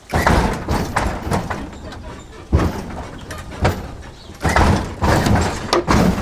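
A car door is pulled shut from inside the vehicle, giving a few dull thumps and bumps close by, with people talking throughout.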